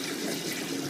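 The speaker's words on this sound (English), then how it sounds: "Once I've poured off most of the water" Water is poured off from a jar holding settled fry food, a continuous soft splashing trickle that stays steady and fairly quiet throughout.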